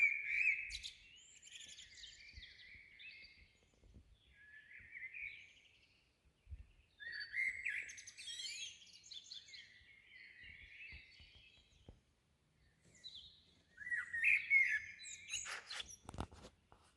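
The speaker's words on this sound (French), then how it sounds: "écouter les oiseaux, respirer l'air frais le soir et observer la lune" Small birds sing outdoors in the evening, delivering repeated bursts of high, warbling chirps and trills with short pauses between phrases, faint and somewhat distant over quiet surroundings.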